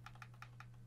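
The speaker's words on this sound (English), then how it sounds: "Let's type that in and click on go." Four or five light keystrokes on a computer keyboard tap out at an even pace, quiet and close, over a constant low electrical hum.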